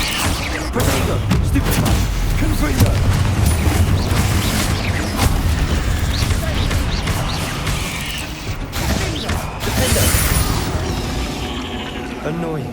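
Spell-cast explosions and combat effects from the Hogwarts Legacy video game, with booming blasts and clattering mechanisms layered over a dense, continuous mix of game sound and music, loud throughout with several sharp bursts.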